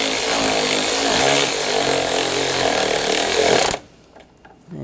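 A loud power tool whirs continuously while tightening screws on a replacement starter in a 2009–2013 BMW 328i xDrive with a 3.0L inline-six, then stops abruptly, leaving quiet workshop ambience.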